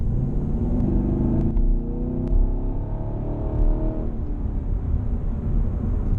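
A Chevrolet Camaro engine revs and accelerates with a steady low rumble, pitch climbing through the run, heard from inside or close by with no talking.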